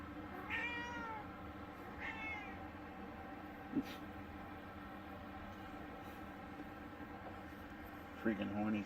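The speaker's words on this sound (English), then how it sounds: "Freaking horny cat." A female cat in heat gives a few drawn-out meows, fairly faint and spaced apart, over a low, steady background hum.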